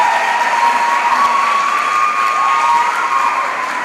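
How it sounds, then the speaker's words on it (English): Applause and cheers from a school crowd honoring its graduating class of 2022, a dense, steady wash of clapping with scattered shouts and a sustained high whistle-like tone running through, loud and close throughout. "Let us all give a big round of applause to the graduating class of"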